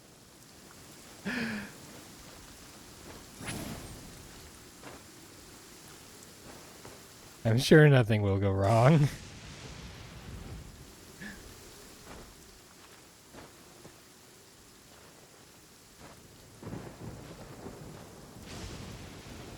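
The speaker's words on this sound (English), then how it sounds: "let's try to get to the highest point on the building during the lightning storm" Rain patters steadily through a lightning storm in Genshin Impact, with one loud thunder crack midway and faint rumbles around it, while a person talks over the storm.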